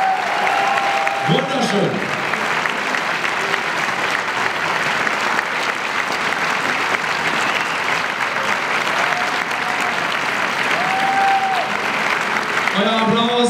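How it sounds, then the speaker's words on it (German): Loud, continuous audience applause at a dance gala in Düsseldorf after a tango Argentino performance, a thick steady roar of clapping throughout, with a brief voice speaking over it near the start and end. "Euer Applaus, Dankeschön"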